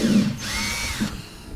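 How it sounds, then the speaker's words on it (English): A power drill whirs briefly, drilling holes in a bass boat's floor, spinning up and down over about a second, close and moderately loud with a low rumble beneath. "So we got to drill four holes in the bottom of our boat."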